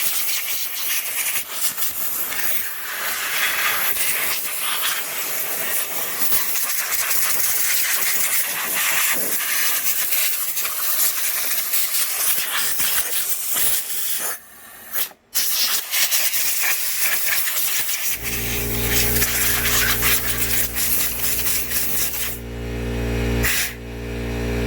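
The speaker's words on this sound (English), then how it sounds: "I took the liberty to kind of spray everything down with WD-40" WD-40 being sprayed over a neglected, gas-smelling lawnmower: a steady broadband hiss runs for about eighteen seconds with brief breaks, then gives way to a louder droning tonal hum.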